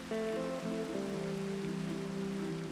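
Rain in Minecraft falls as a faint continuous hiss under held, shifting musical tones from the game, steady and low in level, without any voices.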